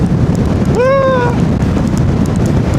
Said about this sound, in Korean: 바람 장난 아니야!